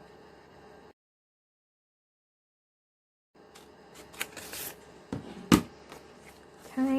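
Scissors cut through folded paper for a handmade mini folio, with close, crisp snips and paper rustles after a short silent gap.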